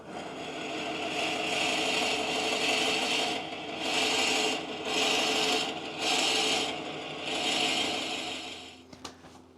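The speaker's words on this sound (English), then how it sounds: "And then we'll keep drilling." A drill bit in a lathe's keyless chuck whines through wood for a salt and pepper mill in several bursts of a second or two, separated by short pauses, ending with a couple of clicks.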